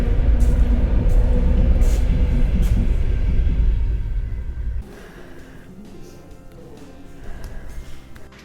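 A train departs from Majori station in Jurmala, Latvia, with a loud low rumble that fades away after a few seconds and leaves quieter background noise.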